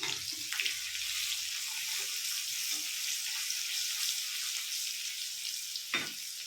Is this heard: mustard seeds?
yes